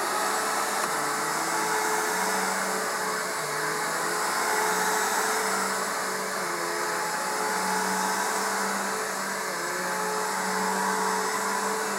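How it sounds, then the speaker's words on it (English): A Bissell Power Force 3522 vacuum cleaner with a broken base runs continuously, giving a steady, loud motor whine and airy rush with slight fluctuations and no talking. "Next is the Bissell Power Force 3522 with the broken base."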